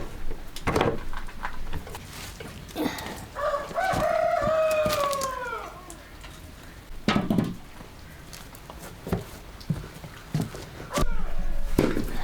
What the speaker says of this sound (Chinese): 母鸡。